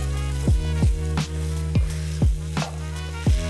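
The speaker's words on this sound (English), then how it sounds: "Mix all that around." Vegetables and tomato puree sizzling in a pan while being stirred, a steady fry with a series of sharp clattering scrapes from the spoon roughly every half second, close and fairly loud.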